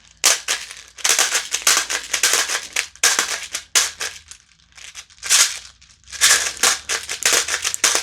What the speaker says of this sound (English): Let me see if I can get some rounds in this mag.